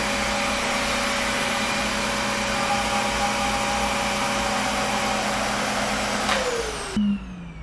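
A RevAir reverse-air blow dryer runs with a loud, steady suction whine as it draws hair in, then cuts off abruptly near the end.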